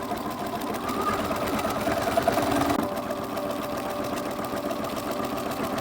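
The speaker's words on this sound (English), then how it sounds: "you're just going to stitch 1/4 of an inch away and then 1/2 of an inch away with gathering stitches" A sewing machine runs gathering stitches along a skirt's front edges, a close, steady mechanical whirr with rapid needle chatter that swells slightly midway and continues evenly to the end.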